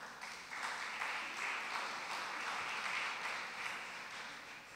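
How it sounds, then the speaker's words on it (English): An audience at a college fall convocation applauds in a dense, even wash of clapping that holds steady throughout, fairly soft and a little distant. "So give yourself a pat on the back and applause."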